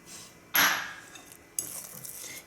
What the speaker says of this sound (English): Give all of this a good mix.